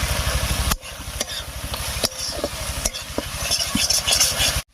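Tomato and spice masala with meat masala stir-fried for a soybean dish sizzles loudly and steadily up close, broken by several sharp spatula scrapes and knocks against the pan.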